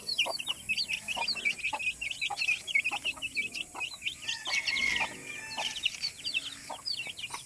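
Chickens, a hen with small chicks, cluck and peep continuously close by on a rural farm, with high chirps of the young over lower clucking and no talk.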